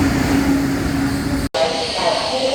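Chinese-built train on the Laos railway toward Luang Prabang, heard from a first-class carriage as a loud, continuous rumble and hiss with a steady hum, briefly cut off partway through before resuming.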